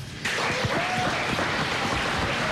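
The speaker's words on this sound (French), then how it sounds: "On peut applaudir, bravo." Studio audience at a live French radio birthday broadcast breaks into applause, a sudden onset of dense clapping that holds steady and moderately loud.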